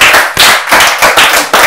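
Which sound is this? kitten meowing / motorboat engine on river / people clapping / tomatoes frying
people clapping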